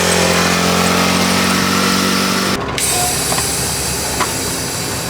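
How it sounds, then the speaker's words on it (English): A four-wheeler ATV on a farm, driven by a young girl, hums with a steady high engine drone that cuts out abruptly midway, leaving quieter rumbling and faint background noise. "Isla's become quite the four-wheeler operator."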